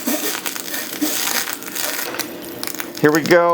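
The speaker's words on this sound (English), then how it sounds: "Burger down. Smash that thing good." A smash burger patty pressed hard with a spatula onto a hot buttered griddle gives a steady, close crackling sizzle, and a voice speaks briefly near the end.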